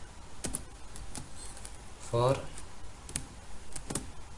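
Code typed on a computer keyboard, sparse individual key clicks spaced out over several seconds, with a brief murmured voice in the middle, close and moderately quiet.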